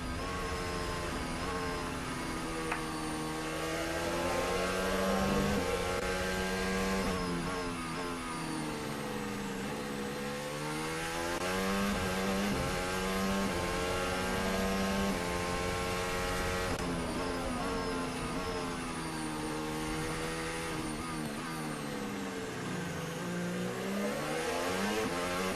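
Formula 1 cars at the 2022 French Grand Prix practice session, high-pitched engines screaming past in sweeping rising and falling pitch, overlapping passes sustained loudly throughout with no talk.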